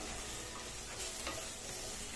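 Leafy greens (saag) fry in a pan while being stirred now and then, giving a steady, close sizzle with soft scraping, no voices.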